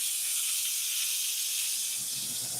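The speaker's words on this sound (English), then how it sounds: "So we're gonna put the steak in. There you go. It is going in." A steak goes into a hot pan with a loud, steady hiss of searing that holds for a couple of seconds, close by and with no talking.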